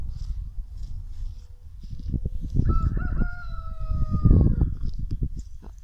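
A neighbour's rooster crows a drawn-out cock-a-doodle-doo at moderate distance outdoors in a permaculture garden, one clear call rising and holding over low background rumble and murmuring.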